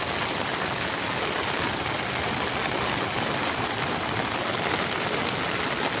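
Heavy monsoon rain pours down over farmland, a dense, steady, loud hiss of water that never lets up, with no voices.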